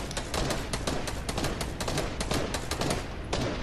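Rapid automatic gunfire in the video game Fortnite, a dense continuous burst of overlapping shots with constant loudness, no voices.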